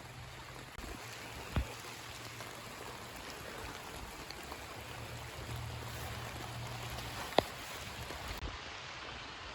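A steady, faint rush of a full creek flowing in cold rain fills the whole stretch, with a couple of brief knocks standing out above it.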